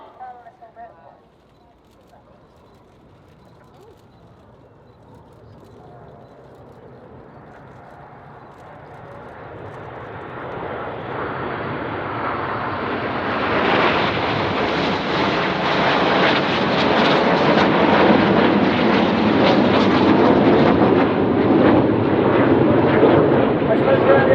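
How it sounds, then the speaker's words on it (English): Red Arrows jets flying in formation with air brakes out at the RIAT air display, a broad jet roar swelling from faint to loud and sustained as the formation approaches, with a commentator speaking over the noise. "we may be able to see the aircraft are flying with their air brakes out"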